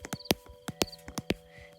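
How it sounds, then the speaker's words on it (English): Fingernails clicking on a screen make a quick, irregular series of sharp, faint little taps, close by, about a dozen in under two seconds. "It's just my fingernails on the screen"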